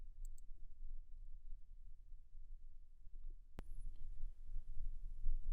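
A single sharp mouse click on a red record button in screen-capture software, one brief distinct tick heard alone over a low steady room hum.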